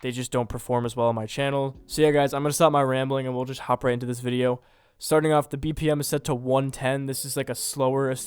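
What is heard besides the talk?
None of the usual background noises is heard.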